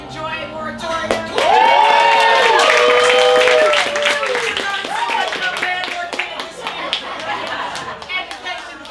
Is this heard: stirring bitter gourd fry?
no